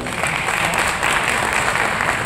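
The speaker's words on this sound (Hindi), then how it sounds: "अगर आपको अच्छा लगा तो जोरदार तालियां बजा दीजिए" Steady applause from an audience at a keyboard launch event in Delhi, a dense wash of clapping at moderate loudness that continues through the whole moment.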